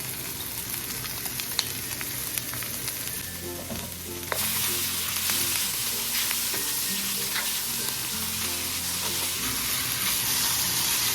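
Small pieces of chopped chicken sizzling in a pan with onion, a loud, continuous crackling fry that jumps up sharply partway through, with occasional stirring clinks and no talking.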